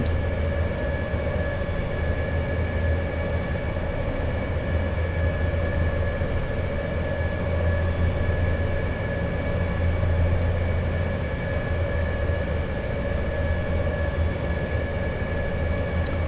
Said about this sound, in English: It's just a train simulation.